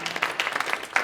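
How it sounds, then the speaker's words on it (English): Audience applause at the close of a talk, a brief, steady burst of many hands clapping with no voices over it. "I would just like one more round of applause for Tim."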